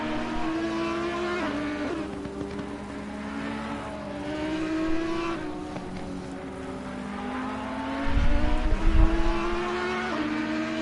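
A Ferrari race car, number 51, laps the Hungaroring in a racing game, its engine a steady, loud, rising and falling whine through the gears, ending in a deeper rumbling burst as it crosses the start-finish line.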